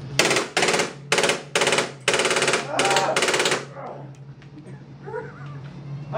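Airsoft gun emptying a full magazine of 6mm BBs at an outdoor frat-party game: about six loud, close rapid-fire bursts over three and a half seconds, then quieter background voices.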